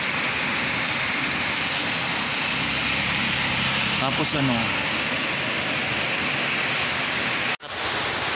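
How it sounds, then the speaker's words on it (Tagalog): Heavy rain from a low pressure storm in Pinamungajan pours as a dense, constant roar, loud and close, with a person talking briefly partway through. "grabe, nakakatakot yung hangin tsaka ulan guys."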